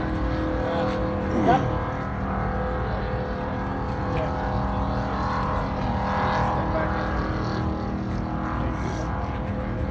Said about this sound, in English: Let's start some cars.